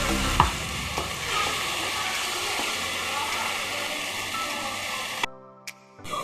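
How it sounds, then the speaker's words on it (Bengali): Spice paste being stirred and fried in a pan with a splash of water, for a wedding-style yogurt katla fish curry: continuous close sizzling with scraping stirring strokes, then a brief stretch of music at the end. "দেখো ভালো করে মশলাটা কষাতে হবে তো"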